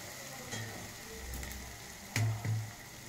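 Eggs cracked one at a time into a pan on medium flame, a steady soft sizzle with a couple of brief louder bursts of frying near the end.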